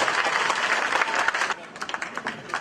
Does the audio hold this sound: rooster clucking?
no